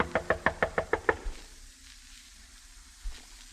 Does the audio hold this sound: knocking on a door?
yes